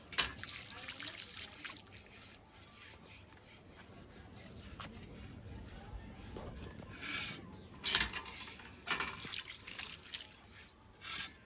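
Water poured from a vessel to fill a clay pot (matka) in a village home in the evening, a faint continuous trickle with a few louder splashing surges and small clinks, no talk.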